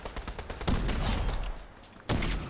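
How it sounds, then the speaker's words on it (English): Video game gunfire rattles in quick volleys, loud sharp shots in two clusters separated by a short lull. "Somebody's shooting at us."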